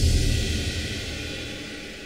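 Orchestral cymbals ring together with a bass drum in a film-style score, producing a loud, sustained wash of metallic shimmer over a deep low boom that slowly fades, with no talking.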